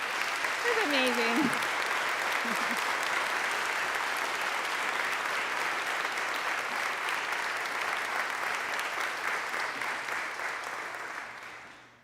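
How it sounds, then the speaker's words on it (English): Sustained applause from an audience at a children's choir concert, loud and steady for the whole stretch, with a brief spoken remark near the start before clapping fades at the very end. "So you need a round of applause, Gabe."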